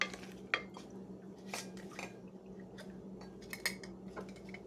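A spoon stirs homemade granola mixture in a pot, making quiet close scraping and soft clinking strokes in an irregular rhythm, with a few sharper taps against the pot's side.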